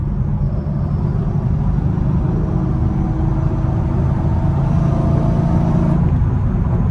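Chevrolet Camaro SS accelerating through its gears with paddle shifters, heard from inside as a loud steady engine drone with a low rumble that shifts pitch slightly midway.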